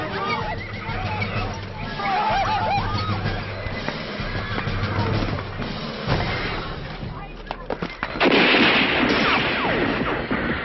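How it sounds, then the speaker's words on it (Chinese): Gunfire in a Chinese television drama set among horses: a few sharp shots ring out over neighing horses, a music score and excited shouting voices. "开枪了！"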